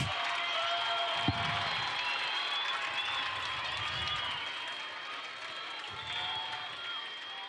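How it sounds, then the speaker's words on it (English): Stadium crowd at a USL soccer match between Real Monarchs SLC and Vancouver Whitecaps FC 2 claps and cheers in a steady, distant wash ahead of a free kick, with a commentator's voice faintly over it. "Crowd getting on their feet for this free kick"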